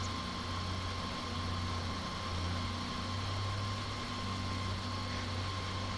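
Tractor engine idling in Farming Simulator 25, a low, steady rumbling drone with a constant hum, even and unbroken throughout, moderately quiet.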